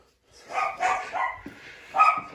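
A dog barks several times in quick succession at a job site during a steam boiler installation, the barks moderately loud and close, with brief pauses between them.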